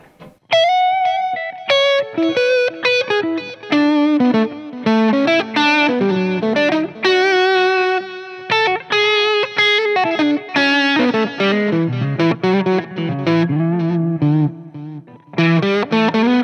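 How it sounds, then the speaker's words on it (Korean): Continuous overdriven lead lines from a Yamaha Revstar Elements RSE20 electric guitar on the rear pickup, drenched in delay and extra echo, notes tumbling and repeating loudly without pause for about sixteen seconds. "딜레이도 좀 밟고 평소보다 제가 에코를 좀 더 넣었어요."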